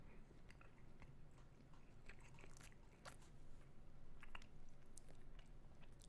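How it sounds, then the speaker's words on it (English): Someone chews food close to a microphone, with continuous wet, crunchy bites and mouth noises fairly loud and up front, no talking. "Probably should have muted my mic as I was chewing."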